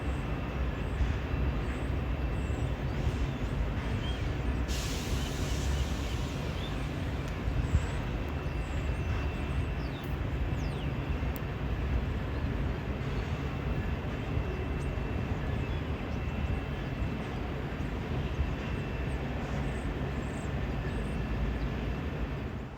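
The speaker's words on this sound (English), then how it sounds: "Here's another Metrolink heading outbound." An outbound Metrolink commuter train passes near Los Angeles Union Station, giving a long, steady rumble and roar that stays loud throughout with no clear rise or fade.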